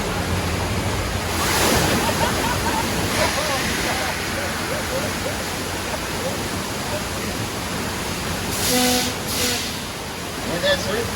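A water flood effect on the Universal Studios Hollywood studio tour sends a loud, rushing roar of water that surges and swells over several seconds, with wind buffeting and faint voices in the background.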